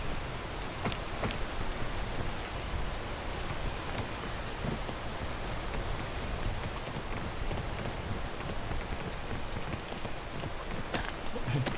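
Rain in the PEAK video game, a dense continuous patter of drops on surfaces, steady and fairly close, running unbroken with no voices.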